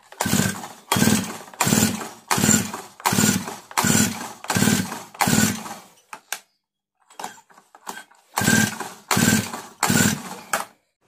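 A small two-stroke earth auger engine is pull-started repeatedly without catching, giving a run of loud, evenly spaced rasping cranks close by, then a brief pause and a few more pulls.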